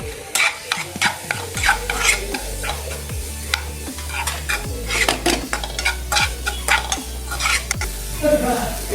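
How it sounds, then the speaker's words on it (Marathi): Ginger garlic paste sizzles in hot oil while a spoon repeatedly scrapes and clinks against the pan in an irregular stirring rhythm, close up, with no talking. "इथे आलं लसणाची पेस्ट टाकते थोडीशी"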